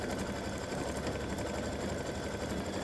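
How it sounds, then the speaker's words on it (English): An embroidery sewing machine stitches a football turkey mug rug, a steady, fast mechanical whir with a continuous close rattle running throughout, no voices. "color stop number 35 is going to stitch the little piece right here"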